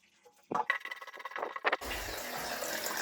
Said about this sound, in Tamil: இப்போ நம்ம நினைச்ச மாதிரியே தண்ணி அதிகமா வருது. அதே மாதிரி சீக்கிரமாவே டேங்க்கும் நிறையுது.